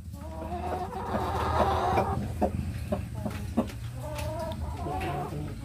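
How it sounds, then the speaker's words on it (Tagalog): A Gold Laced Orpington rooster, a large breeding bird, clucks in a run of short, throaty calls heard close up over a steady low background hum. "nilagay ko na yung rooster natin na golden lace or pinkton"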